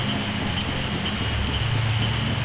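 Heavy torrential rain from the game Grandia hisses steadily and evenly, with a soft patter and low rumble underneath, continuous without pause.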